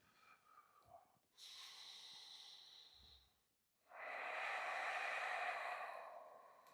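Slow, audible breaths during a rainy-day yoga exercise: a long airy exhale, a brief pause, then a stronger, louder exhale, close and with no talking.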